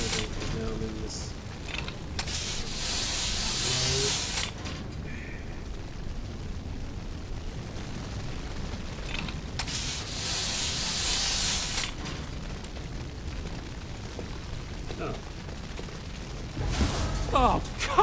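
Fire and smoke in the video game We Happy Few produce repeated bursts of loud rushing, hissing roar over a busy, rumbling game soundscape with mechanical creaks.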